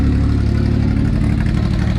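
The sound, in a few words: car engine idling with headers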